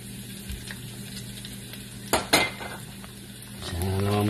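Garlic fries in hot oil for ginataang kalabasa, a faint steady sizzle with a couple of sharp utensil clinks against the pan midway and the frying swelling slightly toward the end.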